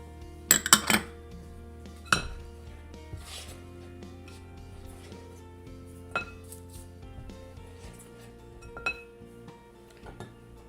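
Self-rising flour, salt and sugar are stirred together in a medium bowl: quiet scraping and rubbing, with a few sharp clinks of the utensil against the bowl near the start.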